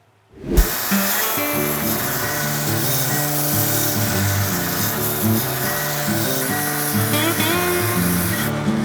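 A belt grinder grinds black decarb scale off a steel knife blade, a loud, steady abrasive roar with a whining hum that kicks in abruptly and runs without a break.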